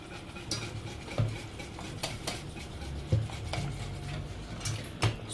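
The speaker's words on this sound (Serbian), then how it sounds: "dodajemo razmućeni puding i kuvamo neko 2-3 minuta" A spoon stirs pudding mix into boiling milk in a pot, scraping and clinking against the metal in a loose rhythm with a few sharper knocks, close and alone over a soft bubbling hiss.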